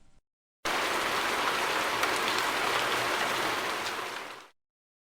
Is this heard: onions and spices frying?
no